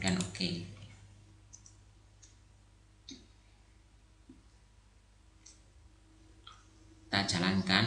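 A computer mouse clicks a handful of times, small sharp taps spaced out over a quiet background hum, with a voice speaking at the start and end.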